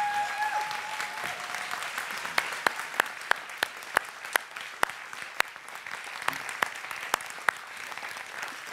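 Standing audience applauding at a spiritual living center service, a steady dense wash of clapping throughout with sharper individual claps popping out near the front, no talking.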